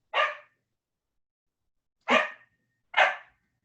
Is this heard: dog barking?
yes